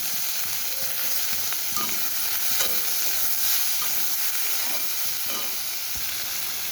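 Chopped tomato fries in a hot pan for a mild fish curry, a steady close sizzle with occasional scrapes of stirring, no voices.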